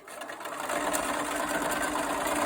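A sewing machine runs steadily stitching quilt squares placed right sides together, a continuous whirring hum at even speed for a couple of seconds before stopping abruptly.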